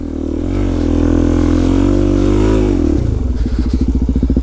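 Supermoto motorcycle engine in a video game, a loud close steady drone that shifts pitch slightly, then breaks into a rapid pulsing putter as the throttle changes, with no talk.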